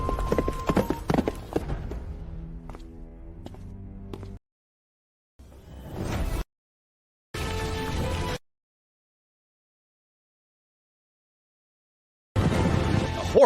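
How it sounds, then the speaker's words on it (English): Horse hooves clip-clop in several bursts, loud and close, broken by stretches of silence, with the sound cutting in and out between bursts. "I clearly heard a horse"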